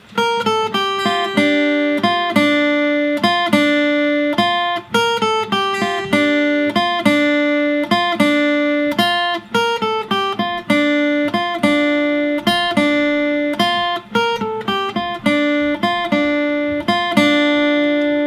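A plucked guitar plays the intro melody of a song, a steady, repeating line of clear picked notes, alone and evenly paced throughout.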